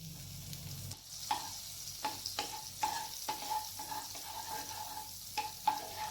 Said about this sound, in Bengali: সেই কড়াইয়ে আমি অল্প পরিমাণে বাটার দিয়ে দিচ্ছি